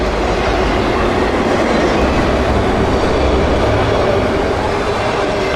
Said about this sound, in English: On the bottom are 45 empty auto racks, tri-level train cars that bring new automobiles into South Florida and usually return north empty.